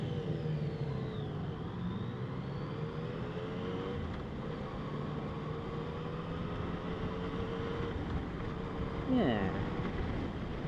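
Yamaha FJ-09 motorcycle cruising in standard mode, a steady engine drone and wind rush running throughout at even loudness, with a brief voice near the end.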